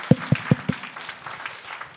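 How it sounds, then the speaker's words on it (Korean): A church congregation at a worship service clapping along, a few loud sharp claps spaced evenly at first, then thinning into scattered softer applause. "다시 한번 박수 한번 납시다."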